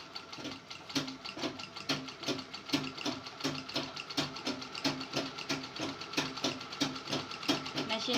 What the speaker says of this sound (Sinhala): මැෂින් එකේ සද්ද ඇහෙන්න පුළුවන්.